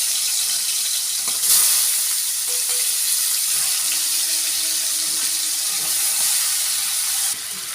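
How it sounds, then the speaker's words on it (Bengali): Salt-and-turmeric-rubbed fish fries in a pan of hot oil with a steady, loud hiss and sizzle throughout, shifting slightly as the pieces settle. "আমি কড়ায় তেল বসিয়ে দিয়েছি আর মাছটা নুন হলুদ মেখে নিয়েছি। মাছটা ভেজে নেব।"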